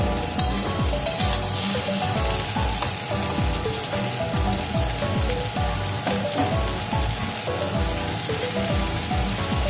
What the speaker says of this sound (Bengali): এভাবে নেড়ে চেড়ে একটু ঝিঙেটাকে আমি ভাজা ভাজা করে নেব।